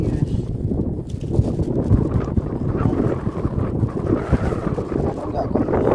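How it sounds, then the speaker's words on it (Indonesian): Gusty wind blows across the microphone while fishing outdoors, a loud continuous buffeting roar close to the mic, with a voice talking faintly underneath. "malah datang angin nih guys"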